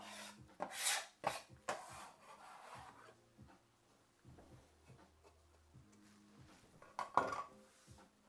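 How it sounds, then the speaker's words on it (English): Knife chopping on a wooden cutting board while vegetables are diced for a Thai curry with squash, a few sharp close taps and scrapes early, then quieter rubbing and one more burst of chops near the end. "we'll start dicing everything up"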